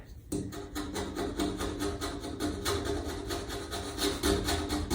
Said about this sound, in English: I got some razor blades, straight razor blades. And, you know, you just gotta sit here and scrape.